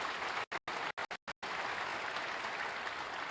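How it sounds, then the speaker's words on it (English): Crowd applause at a snooker match at the 2024 Shanghai Masters: steady broadband clapping from a large audience, briefly cut by several short gaps near the start, then sustained and even to the end. "Crowd have appreciated the quality of the snooker in this little mini session"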